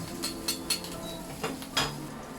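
A spatula scrapes and clinks against a wok while sauerkraut and chives stir-fry with dried chilies, a few light metallic taps over a soft steady sizzle.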